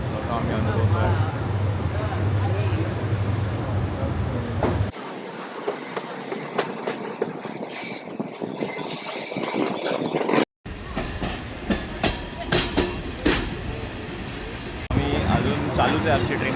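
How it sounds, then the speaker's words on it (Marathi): A Royal Gorge railway train running through a mountain river gorge, with rumbling wheels and rail clatter in a steady wash that shifts and breaks briefly partway through, while people talk over it. "चालूच आहे आमची ट्रेन, आता वापस चालली आहे."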